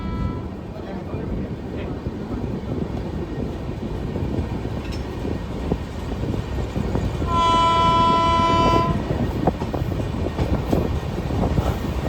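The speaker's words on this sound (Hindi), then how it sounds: "और आगे से भी हम क्रॉस हो रही है हरिद्वार अमृतसर जन शताब्दी एक्सप्रेस" The Haridwar Amritsar Jan Shatabdi Express, an LHB-coach train, passes close alongside with a continuous heavy rumble of wheels on rails and a loud, sustained horn blast mid-way, heard from aboard another moving train.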